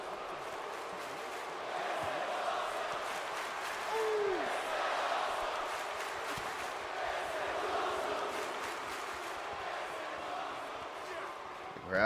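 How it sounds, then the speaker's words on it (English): A roaring arena crowd cheers in the WWE 2K18 wrestling video game, a steady broad wash of noise that swells slightly, with a voice talking over it. "Crowd here, this crowd is awesome."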